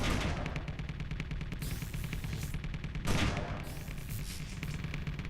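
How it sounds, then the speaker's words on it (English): Capital ship guns firing in the Space Engineers video game, rapid sustained bursts of heavy gunfire with a louder blast partway through. "Moving into engagement range again. All guns firing."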